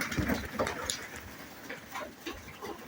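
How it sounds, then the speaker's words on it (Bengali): A Rajshahi highflyer pigeon gives soft, low coos a few times, faint and close, with some quiet background noise and a voice briefly present. "এই যে আমার রাজশাহী বাজির কবুতরটি"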